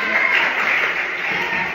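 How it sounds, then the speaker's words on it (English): A classroom of secondary school students in Thailand claps hands together for a classmate, a steady dense wash of clapping at close range. "Clap your hands to Kautu."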